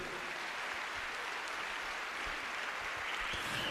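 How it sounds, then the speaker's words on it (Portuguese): A crowd applauds at a Catholic priest's sermon in Brazil. The clapping is faint and steady, a dense wash that runs for the whole stretch with no voice over it. "Quem pode aplaudir forte a Jesus?"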